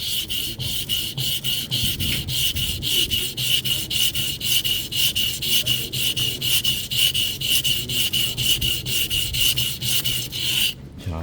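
A kitchen knife is drawn back and forth across a whetstone in a steady rasping rhythm, close and continuous, each stroke a gritty scrape that repeats dozens of times without pause.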